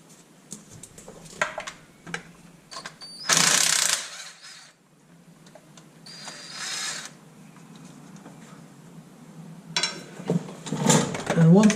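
Pneumatic nut gun whirring and rattling as it spins sump pan bolts off a Land Rover 300TDI engine, in several short loud bursts separated by quieter clinks and tool handling.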